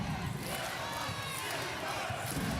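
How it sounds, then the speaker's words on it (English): Arena crowd noise at a women's international basketball qualifier between Lithuania and Belgium, a steady broad roar of cheering that rises and holds throughout, filling the space without any distinct voice standing out. "Once again, the crowd lift the noise."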